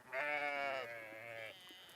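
A single sheep gives a drawn-out, wavering bleat on a ranch, fairly close, fading into quiet background air.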